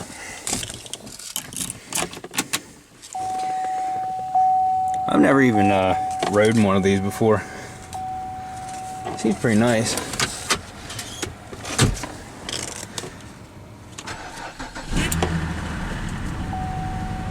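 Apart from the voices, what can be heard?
car engine being started and running at auction yard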